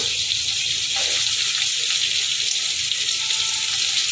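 Snake gourd and radish frying in hot oil for a vegetarian Bengali labra, a continuous close sizzle that holds level throughout, with faint stirring and watery bubbling underneath.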